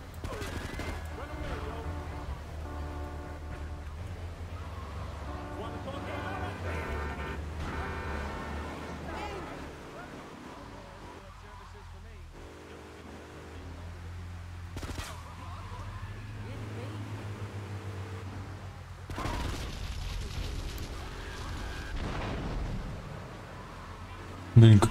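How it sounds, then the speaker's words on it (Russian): Muffled explosions and bursts of gunfire ring out during play of GTA 3: Definitive Edition, a low rumbling blast bed punctuated by several sharp cracks, with someone talking over the game sound. "Блин, какой же взрыв проработанный."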